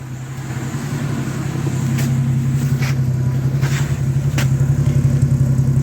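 A 1976 Dodge D100 half-ton pickup with a new exhaust and muffler idles steadily close by, a smooth, even low rumble that holds alone without speech or revving.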